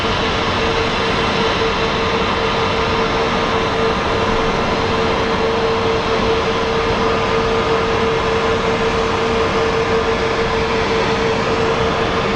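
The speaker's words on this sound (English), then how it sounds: "Okay, let's take a look at the plane that just taxied in." An Airbus A321neo airliner taxiing at Phoenix Sky Harbor airport gives a steady, loud engine drone with a sustained tonal whine, continuous and unchanging with no talk.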